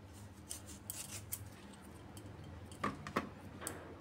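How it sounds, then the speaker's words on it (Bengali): A knife cuts potatoes into large long pieces, giving faint scattered clicks and taps on a board over a low background hum, with a couple of sharper cuts near the end. "প্রথমে আলুটা কাটছি।"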